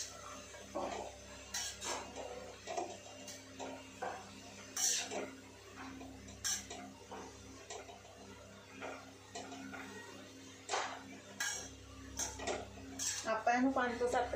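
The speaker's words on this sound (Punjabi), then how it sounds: "ਬਸ ਮੈਂ ਇਹੀ ਦੋ ਤਿੰਨ ਮਸਾਲੇ ਐਡ ਕਰੂੰਗੀ ਅਤੇ ਇਹਨੂੰ ਮਿਕਸ ਕਰੂੰਗੀ" Spices are stirred into cauliflower in a cooking pot: repeated metal clinks and scrapes of a spoon against the pot, close and intermittent over a low steady background hum.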